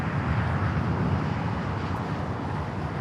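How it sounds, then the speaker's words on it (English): A United Boeing 757-300 landing at LAX, heard as a steady broadband jet roar that stays close and loud for a few seconds, with no voices. "United 757-300 touching down here on the south side."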